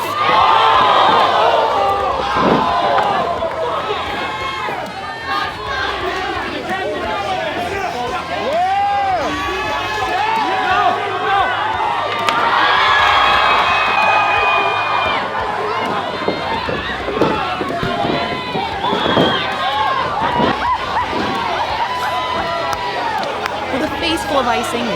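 A crowd at a Battle Club Pro wrestling show cheers and shouts in loud, continuous waves, with whoops and a commentator's voice running over the noise.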